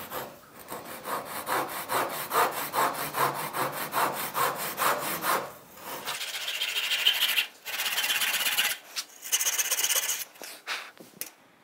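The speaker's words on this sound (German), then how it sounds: "Da wollen wir jetzt gleich mit der Säge, die wir ausgesucht haben, einmal den Schlitz sägen." A hand saw rasps rhythmically through plywood, cutting a slot, in quick, even back-and-forth strokes, then shifts to rougher, higher grinding strokes with short pauses between.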